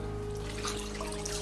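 Cold tap water running steadily as filters are rinsed under it, a continuous close splashing flow with a faint background hum.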